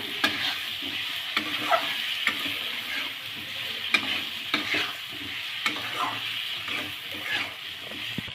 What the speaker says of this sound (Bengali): এখন ভেজে রাখা খাম আলুগুলো একটু মশলাটার সাথে ভালোভাবে কষিয়ে নেব।